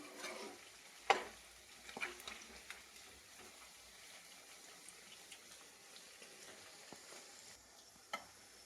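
Chicken pieces frying in sunflower oil for chicken pickle, giving a faint continuous sizzle close by, broken by a few sharp stirring scrapes and spatters.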